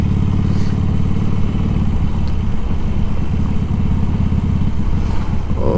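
A Harley-Davidson Iron 883 rumbles along steadily at riding speed after leaving the highway, its engine a loud, continuous low thump with wind noise and no talk.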